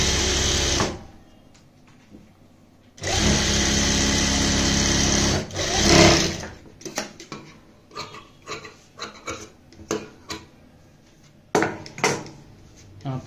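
A sewing machine stitches blouse lining in two long, steady bursts, with quieter clicks and handling noises between and after them.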